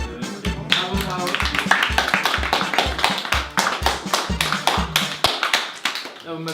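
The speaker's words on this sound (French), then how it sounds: "Ah, vous m'avez applaudi comme ça" A studio audience applauds a comedian after a stand-up bit on a French talk show, the claps arriving as a close, steady, fast rhythmic patter that thins out toward the end.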